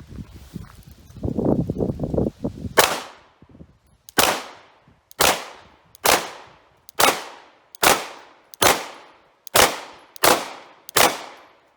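Brand new Glock Model 45 pistol fired at a range from about 10 yards: after some brief rustling and handling, nine sharp, loud shots ring out at an even pace, each with a quick decaying tail.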